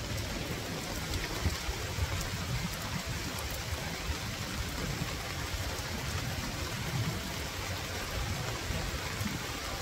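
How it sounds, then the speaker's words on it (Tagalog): Heavy typhoon rain pours in a steady, loud, unbroken roar with dense splashing on surfaces, continuous throughout with no pauses. "Pero dito ay grabe, ang lakas ng ulan."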